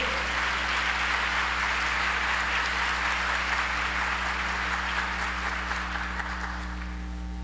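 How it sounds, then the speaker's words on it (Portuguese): A church congregation applauds at a Sunday service, a dense wash of clapping from many hands that holds steady and then begins to fade toward the end. "Vamos aplaudir ao Senhor."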